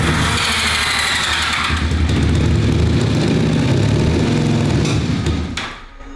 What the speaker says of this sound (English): We just want to hear you idle.